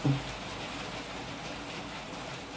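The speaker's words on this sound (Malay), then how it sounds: "Tadi masa saya mula buat kat sat tak ada hujan. Sekarang dia ada hujan." Steady rain falls outdoors during outdoor cooking of beef rendang, a continuous even hiss of drops with no voices, moderately loud throughout.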